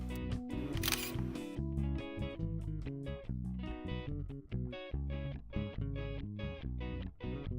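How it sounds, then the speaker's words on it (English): A Canon EOS 30D digital SLR fires its shutter once near the start with a crisp mechanical click, set against steady rhythmic background music. "Then depress the shutter to take the picture."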